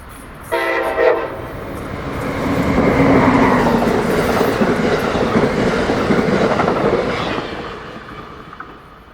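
A Keystone Corridor train passes close by in winter, near Holland Interlocking. A loud horn blast opens, then a heavy roar and rail clatter build and fade, with no talking.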